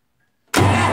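A Massey Ferguson 180 diesel tractor, bled after running out of fuel, bursts abruptly from silence into loud, close engine noise as the key is turned.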